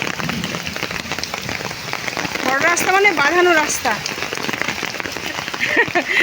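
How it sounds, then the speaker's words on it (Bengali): Steady rain patters on a surface throughout while someone talks over it, with a brief tonal chirp in the middle. "বৃষ্টির সময়"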